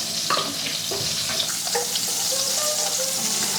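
Butter melting in a hot pan while a butter chicken is cooked, giving a steady soft sizzle with faint scrapes of stirring, close and continuous without talk.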